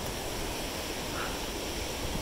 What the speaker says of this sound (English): that is a glacial waterfall or snow melt